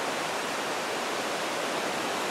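A small waterfall at Hug Point beach pours in a steady, dense, even rush of falling water with no other sounds.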